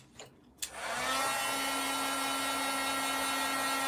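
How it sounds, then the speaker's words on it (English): A heat gun heat-setting marker ink switches on after a couple of soft knocks and runs as a steady, loud blowing whir with a constant hum, continuous to the end with no talking. "we're going to go ahead and use the heat gun real quick"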